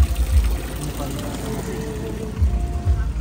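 Water pours steadily from a stone water spout at a viewpoint, making a continuous splashing rush outdoors with faint low thumps mixed in.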